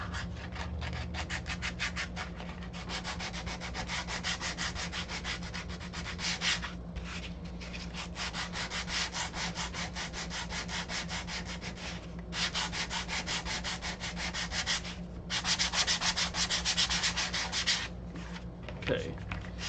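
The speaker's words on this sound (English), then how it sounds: "I'm going to sand this edge as well." Steady, continuous hand sanding along the edge of a piece, likely wood, near to the microphone, with a rough scratchy rasp that pauses briefly a few times.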